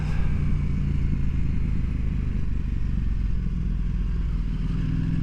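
Husqvarna Norden 901 motorcycle riding along a road on a cool morning, its steady mid-range engine drone loud and continuous throughout with wind rumble, no voices.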